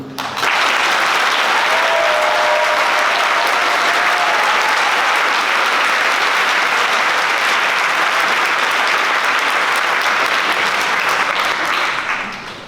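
Loud, sustained audience applause fills a closing ceremony hall for a model UN conference, a thick continuous wash of clapping that swells in and holds evenly before easing off at the end.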